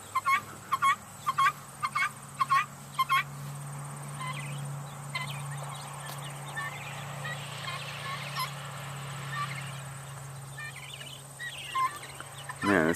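Guinea fowl on a suburban farm call around their coop, a run of sharp repeated cries at the start and again at the end, with quieter scattered calls and a steady low hum between.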